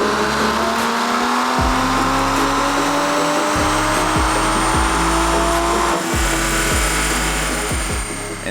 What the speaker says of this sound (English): We recalibrated the dyno and decided to do a run in 6th gear.